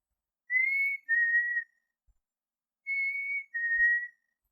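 A human whistler imitates a bird call in a dramatic reading: two pairs of clear, sustained two-note whistles, the second note slightly lower, separated by a short pause in otherwise silent surroundings.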